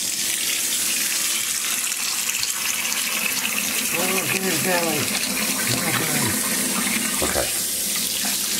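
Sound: running tap water while washing a monkey

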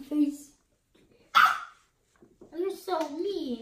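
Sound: dog barking

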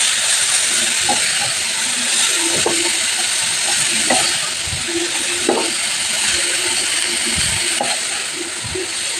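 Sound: grated cabbage frying and being stirred in pan

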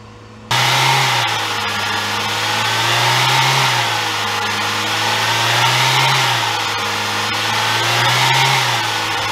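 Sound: car engine revving

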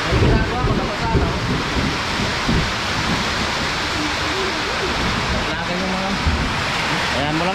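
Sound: sudden heavy rain

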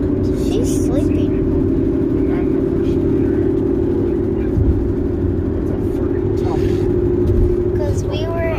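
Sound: car interior driving noise

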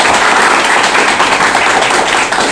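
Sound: class applauding for Sunil

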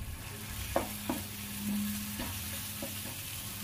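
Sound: stirring cooked tomatoes with black pepper and cumin powder

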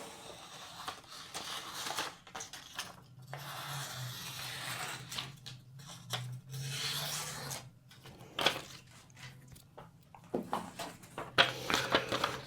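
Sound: sharpening X50CrMoV15 chef knife on ruby ceramic stone

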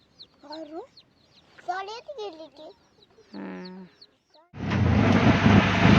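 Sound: chickens clucking

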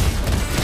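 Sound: gunshot from Lesley's sniper rifle in video game Mobile Legends

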